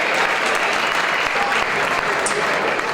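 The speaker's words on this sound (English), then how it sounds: "a big round of applause for both of these fighters after 5 hard-fought rounds of" Crowd applause fills a Thai boxing venue after a five-round 62kg C Class bout at the Stand and Bang final, a steady dense roar of clapping sustained loudly throughout.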